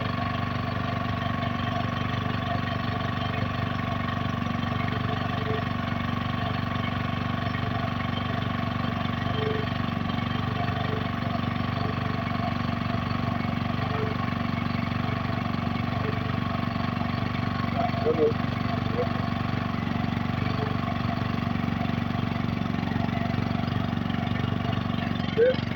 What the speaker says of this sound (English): Now let me increase the speed of the generator.